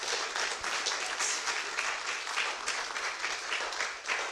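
An audience at a public forum on hate speech and democracy claps in warm, continuous applause, many hands heard at moderate volume and fairly evenly for about four seconds.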